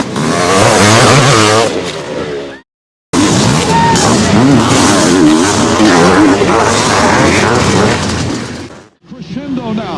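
Supercross race start at Anaheim, round 3: a loud roar of many motorcycles revving together, with a commentator talking excitedly over the engines and a brief dropout partway through.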